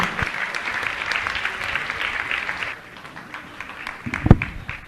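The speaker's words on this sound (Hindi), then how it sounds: "जोरदार ताली बजाकर" Loud, dense applause from an audience honouring guests at a religious gathering, steady for about three seconds, then thinning, with one sharp louder clap burst near the end.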